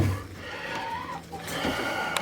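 Hens settled in roll-out egg nesting boxes cluck softly and steadily at close range, with no talking over them.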